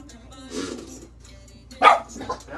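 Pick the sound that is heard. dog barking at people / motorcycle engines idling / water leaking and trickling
dog barking at people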